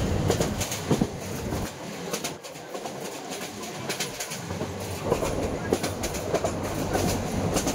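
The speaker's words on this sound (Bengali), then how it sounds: "আমাদের ট্রেন ছেড়ে দিচ্ছে।" A passenger train on a Bangladeshi route pulls away from a busy platform where people are boarding and vendors are selling, its wheels clattering loudly and steadily on the rails, with bird calls mixed into the noise.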